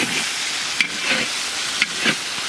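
Ginger, garlic and green chilli with spices fry in a pan, a continuous close sizzle broken by a few sharp stirring scrapes.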